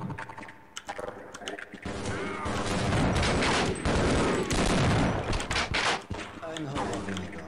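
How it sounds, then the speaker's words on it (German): Bombardment in the Half-Life video game, a dense, loud barrage of crashing blasts and rattling impacts that builds and holds through the middle before easing, with a tank nearby. "Und zwar wird hier ein Bombardement ausgeführt."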